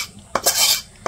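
Cooked beef tripe (bot) is scooped out of a cooking pot with a metal utensil, giving two sharp clinks and a brief wet scraping stir, close and clear.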